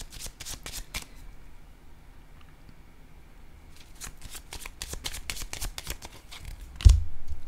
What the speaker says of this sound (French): je vais déposer quelques cartes maintenant